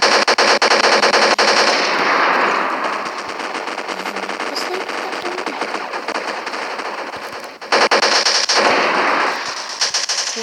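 Sustained automatic gunfire in the video game Counter-Strike: GO, loud and dense bursts running nearly continuously, with a short gap before firing resumes.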